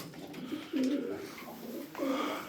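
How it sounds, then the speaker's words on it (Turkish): Tumbler pigeons coo up close, with two soft, low, throaty coos standing out over faint background noise. "Yakından göreceksiniz şimdi kuşları."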